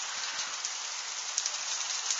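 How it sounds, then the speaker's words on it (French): Rain mixed with hail and sleet pours down in strong wind during an intense February hailstorm in Tour-en-Sologne, France, a dense, steady hiss of pelting precipitation with no voices. "c'est la pluie qui prend le relais. Pluie et grêle mêlée"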